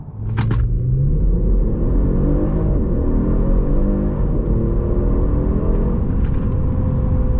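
Genesis G70 with turbo V6 accelerating hard from standstill, a loud steady engine rumble climbing in pitch through the gears from inside the car, with no talk over it.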